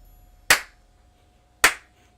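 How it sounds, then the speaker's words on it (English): Two sharp, isolated hand claps from a single person, close and crisp, about a second apart, with near silence between and no talk. "but I am applauding."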